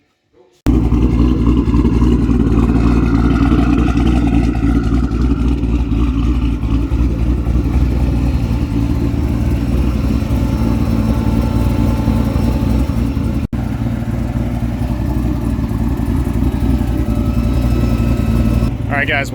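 A twin-turbo Chevrolet Corvette C6 Z06 running hard on a dyno, its loud engine holding a sustained high-load drone with steady harmonic tone for nearly twenty seconds, close and powerful, a brief dip midway.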